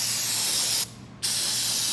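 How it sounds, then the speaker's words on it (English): Parts cleaner aerosol sprayed onto wheel bearings to strip old grease, a loud close steady hiss with a brief pause partway through. "take your parts cleaner and basically spray"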